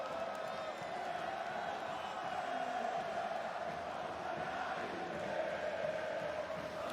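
Large crowd in a packed esports arena at a CS:GO Major in Rio, Inferno map, roaring and cheering steadily throughout, a dense sustained wall of voices with no pauses.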